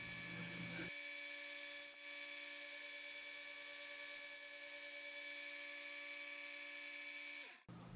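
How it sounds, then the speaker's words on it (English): A steady high-pitched motorized whine of a belt sander grinding a steel lawnmower blade into a knife, running continuously with a grinding edge, cutting off abruptly near the end. "Brought it back and kind of finished it out in the belt sander."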